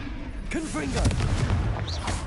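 A Confringo spell explosion in the Hogwarts video game bursts with a booming blast amid chaotic spell-combat effects, as a voice shouts over the action.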